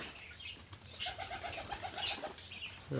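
Pigeons coo softly in a short, steady series of low throaty calls, close by, with no voices.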